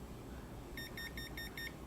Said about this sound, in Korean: 1500이 넘어가면 국내 대부분의 측정기가 경고음을 울려줘요